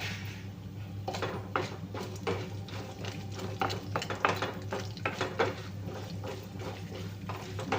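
Neem flowers and drumstick leaves fry with urad dal in a pan, heard as a quiet run of quick scraping and clicking stir strokes over a faint sizzle.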